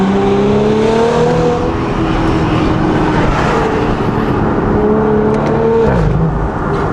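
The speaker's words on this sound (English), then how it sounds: "I'm very impressed at how good this car sounds." Audi S5 with a Valvetronic Designs valved sport exhaust and downpipe, loud and close, holding a sustained engine drone with a few rising and falling revs and a dip toward the end.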